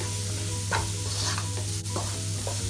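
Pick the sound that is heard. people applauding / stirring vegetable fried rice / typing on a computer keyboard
stirring vegetable fried rice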